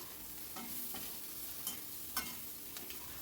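Pumpkin pieces and onions stirred in a frying pan over a steady sizzle, with a few sharp spatula scrapes and clinks standing out near and clear.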